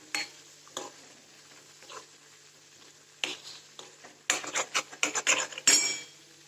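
Pumpkin kofta gravy roasting in a pan, with soft intermittent sizzling and scraping stirs that grow busier and louder toward the end, with no talking.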